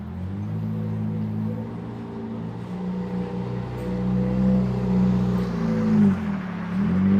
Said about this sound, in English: Car doesn't sound too healthy.